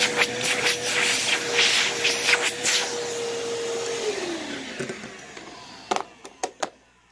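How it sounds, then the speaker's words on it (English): A repaired Hoover or Bissell upright vacuum cleaner runs with a loud, airy motor roar and a steady whine that drops in pitch as it winds down, followed by a few sharp knocks and clicks close by. "motor still needs some more work, but I mean, it is working. It does have a lot better suction than it used to."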